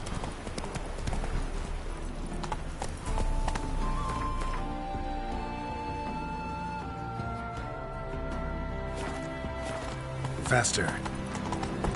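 Roach the horse's hooves clip-clop in a rapid galloping rhythm in a video game, loud and continuous beneath frequent game dialogue and music.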